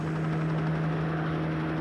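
A helicopter's steady rotor drone and hum, loud and continuous, heard close by without voices.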